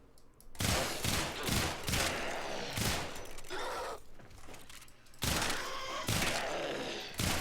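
Sicarus burst pistol in Warframe fires in crisp, loud multi-shot bursts, roughly a dozen separate volleys spaced across the span, with faint ambient game sound between them.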